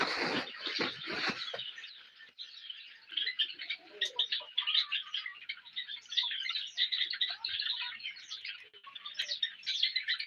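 Black Java sparrows in a breeding colony keep up a dense stream of high, rapid chirps and twitters, close and continuous, after a brief rustling bump at the start.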